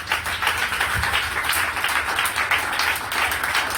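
Church conference audience applauding and cheering, a steady dense wash of clapping and voices filling the room at even loudness.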